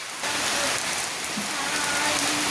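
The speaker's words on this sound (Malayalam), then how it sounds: "നല്ല മഴയുണ്ട് കേട്ടോ" Heavy monsoon rain pours steadily, a dense close hiss of drops hitting surfaces that stays loud and unbroken throughout.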